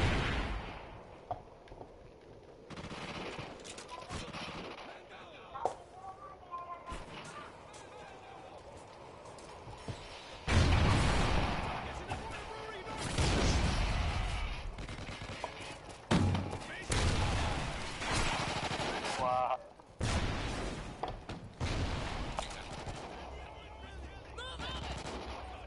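Gunfire in Call of Duty Ghosts, with bursts of automatic weapon fire and single shots coming in uneven clusters, some loud and close, others quieter, with a voice speaking between them.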